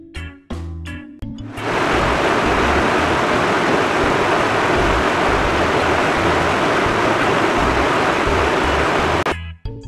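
A steady, loud wash of broadband rushing noise like a waterfall runs alone for about eight seconds, following a few brief voice fragments at the start and cutting off abruptly near the end.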